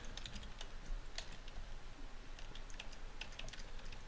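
Typing on a computer keyboard while entering CSS for a web design page, quick irregular clicks in short bursts, close and fairly quiet over a faint steady background hiss.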